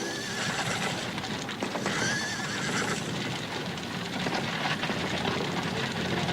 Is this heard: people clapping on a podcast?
no